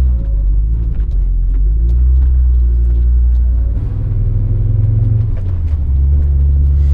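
An Audi 200 Quattro Turbo runs with a heavy, low engine rumble heard up close. The pitch rises and falls slightly as the throttle varies, and no voices are heard.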